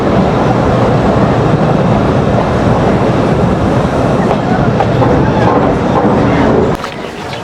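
The Betna Express train rolls into Navaron railway station with a loud, continuous rumble and rattle of wagons close by, which drops away abruptly near the end.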